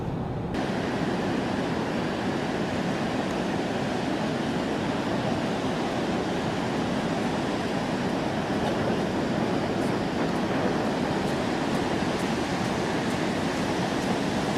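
Ocean surf breaks on the Pacific coast near Morro Bay, a steady, loud wash of waves with wind noise on the microphone that never lets up, and no one speaks.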